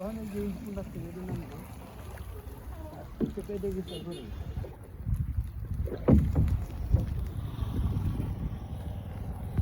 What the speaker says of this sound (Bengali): নৌকা তো বাবার নৌকা চালাইতেছে